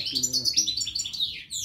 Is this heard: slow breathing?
no